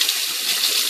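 Water runs from a tap as a six-blade Dorco Pace 6 razor is rinsed, a steady close splashing rush lasting under a second.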